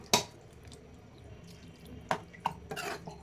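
Water is poured into a pan of simmering okra gravy, giving a few sharp splashes and drips spaced over a couple of seconds. The splashes are close and distinct against a quiet kitchen background.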